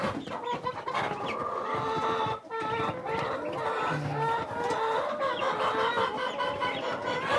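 Three-week-old Rhode Island chicks in a backyard farm cluck and chirp continuously, close and busy, with faint other farmyard noise in the background.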